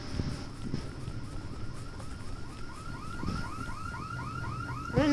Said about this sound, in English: I did not turn off the alarm on this car.